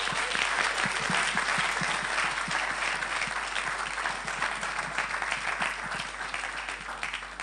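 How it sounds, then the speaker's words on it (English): Sustained applause from an audience at a fireside chat event, dense and steady throughout, with a faint voice briefly present beneath the clapping. "Let's give him another round of applause"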